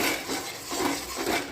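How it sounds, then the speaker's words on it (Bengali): A utensil scrapes and clinks against a pan as spices with turmeric are stirred. The strokes come in a few quick, close passes with no talking. "এটাকেও একটু নাড়াচাড়া করে নেব"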